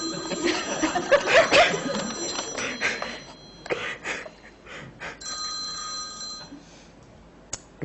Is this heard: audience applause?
no